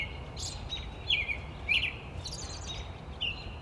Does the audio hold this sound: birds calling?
yes